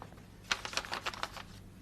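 Faint, brief rustling and crinkling of paper in a handful of soft bursts, heard close up with no talking.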